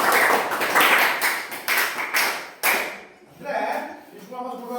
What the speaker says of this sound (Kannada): ಚಪ್ಪಾಳೆ ಹೊಡೆಯಿರಿ